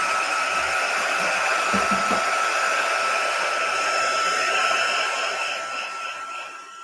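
A heat tool blows a loud, steady hiss of hot air over a freshly applied stencil layer, holding constant and then fading slightly toward the end.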